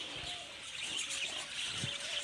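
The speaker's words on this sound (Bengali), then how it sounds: "বদ্রি পাখি, শুধুমাত্র বদ্রি পাখি" Budgerigars at a breeding farm set over a lake keep up a dense, steady flock chatter of high chirps and twitters that fills the whole stretch without pause.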